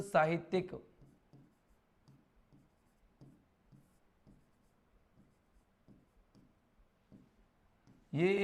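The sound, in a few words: writing on a board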